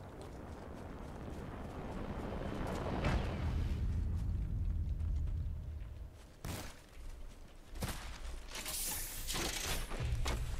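In the video game Apex Legends, a Lifeline care package drops with a rising mechanical whoosh and rumble, then a heavy thud as it lands, followed by clanking and a sharp burst of noise.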